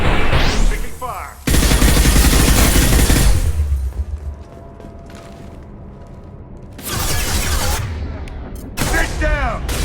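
Gunfire in the sci-fi shooter Mass Effect 2 during a firefight: loud, dense bursts of automatic fire and booming impacts come in waves, with a quieter lull in the middle, mixed with voices calling out.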